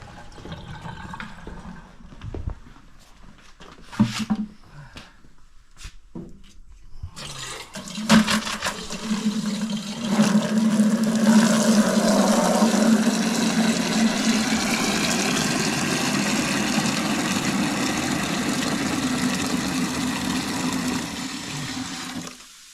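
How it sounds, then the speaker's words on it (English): Water rushes steadily out of an on-demand water heater being flushed, a loud continuous gush that starts after a few seconds of clunks and handling noises and holds strong to the end. "So we're gonna flush the water heater real quick."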